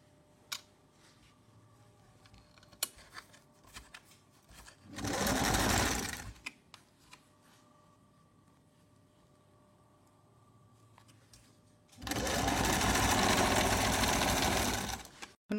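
An electric sewing machine stitches salwar fabric joined with canvas in two loud, steady runs of fast whirring, separated by a quieter stretch of faint clicks and handling noise.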